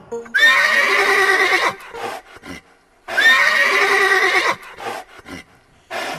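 A horse neighs twice, each a loud, close whinny lasting over a second with a gap between, followed by a few shorter snorting sounds, with no talking.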